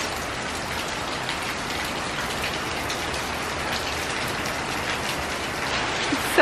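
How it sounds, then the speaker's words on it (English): Steady rain falls outdoors in Arizona, a dense, even hiss of drops on surfaces that continues without a break and with no talking. "We're gonna get excited and come outside and watch the rain."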